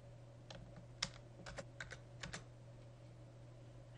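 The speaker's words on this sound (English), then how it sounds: "So let's type in those characters." Keys on a computer keyboard clack in a short, irregular burst of typing over a faint steady hum, quiet and close, then stop, with no voices.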